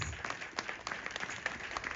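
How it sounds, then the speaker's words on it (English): Applause at a book launch as a speaker is welcomed forward, a soft, fairly distant patter of clapping from a small audience. "Let's give her a round of applause"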